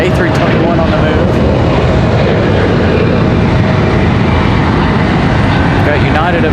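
An American Airlines Airbus A321 jet moving at Raleigh-Durham International Airport gives a loud, steady engine roar throughout, with a voice talking over it.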